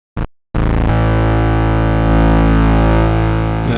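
A thick, buzzing Diva synthesizer chord with a sharp attack holds steady and loud for several seconds, its layered voices smeared wide with a slight chorus shimmer.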